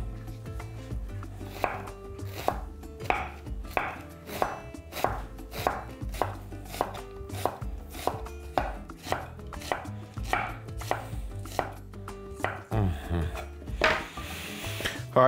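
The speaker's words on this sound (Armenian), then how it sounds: "Կտրատում ենք կիսաօղակների։" A knife slices white and red onions into half rings on a wooden board, sending out a steady series of sharp, close chops at a brisk, even pace, ending in a brief scraping sweep.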